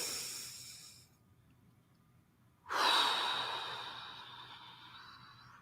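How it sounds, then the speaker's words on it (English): Slow, deep breathing sounds close to the microphone. A soft exhale fades into near silence, then a sudden strong breath surges in and slowly tapers away. "I encourage folks to do this with me 2 more times. Inhaling and exhaling."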